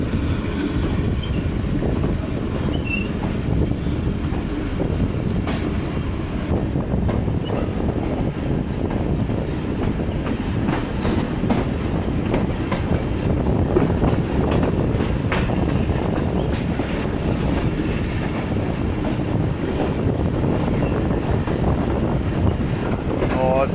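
Mehr Express passenger train running on rails between Multan and Rawalpindi, a continuous loud rumble with clickety-clack from the wheels and wind noise, steady throughout.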